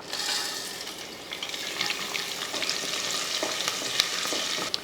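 Spices crackle and sizzle steadily in hot oil for pongal, a dense bright hiss with small pops throughout, close and fairly loud.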